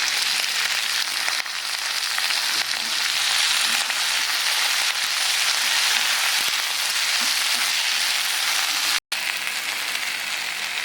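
Banana flower sautéing in oil for a chutney, a continuous soft hiss and crackle of frying with faint stirring scrapes, steady throughout and close by, with a brief sharp break near the end.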